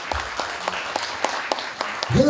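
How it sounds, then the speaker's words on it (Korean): Applause from an audience at a 60th-birthday banquet for an elementary school alumni class in a hotel in Daegu. Steady clapping fills the whole moment at moderate loudness, with a voice rising briefly near the end. "여러분 큰 박수로 환영해 주시기 바랍니다."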